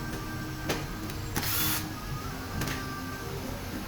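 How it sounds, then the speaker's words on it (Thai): An impact wrench gives a short, loud rattling burst while removing a hex bolt from the fork of a Honda PCX150 scooter, with scattered clicks and taps around it in a workshop. "แล้วก็ยิงน็อตหกเหลี่ยมนะครับ ออกนะครับ"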